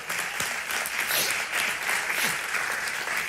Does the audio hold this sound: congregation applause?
yes